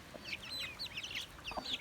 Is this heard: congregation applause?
no